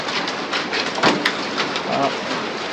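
Dense pattering of hail or heavy precipitation striking surfaces, steady and close, with a few sharper impacts standing out.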